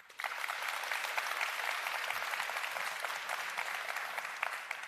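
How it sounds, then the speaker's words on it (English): A conference audience at a crypto debate event in London claps steadily for about five seconds, a dense, sustained round of applause with no cheering. "no wooing, only clapping"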